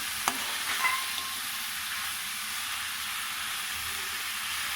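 A potato, pea and carrot curry fries in a pan with an even, close sizzle, with a couple of faint utensil taps near the start and no voices.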